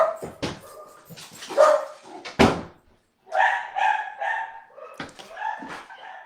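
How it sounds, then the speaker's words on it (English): A dog barks and yips in a handful of sharp, close bursts with brief pauses between them, followed by a few higher whimpering or whining calls. "I'm gonna just let my dog out."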